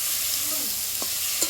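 Snails and potatoes, fried earlier, get stirred into a sizzling tomato masala in a pan. A soft, steady sizzle runs throughout, with a couple of short scraping stirs near the end.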